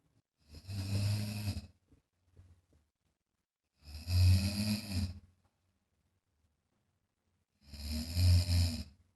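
A man snores while asleep, three long, loud rasping snores separated by quiet gaps, with a faint short breath between the first two.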